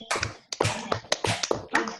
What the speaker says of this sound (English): now let's give a clap to him